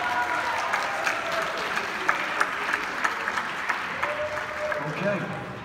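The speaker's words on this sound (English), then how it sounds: "All right, round of applause here" Sustained audience applause at a live stage competition with judges, dense clapping continuing steadily throughout with a few louder peaks and faint voices mixed in.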